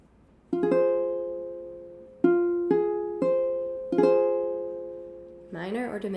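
A minor chord on piano in root position rings out several times, first arpeggiated and then struck together, each strike decaying before the next. Close and clear, with a voice starting to speak at the end.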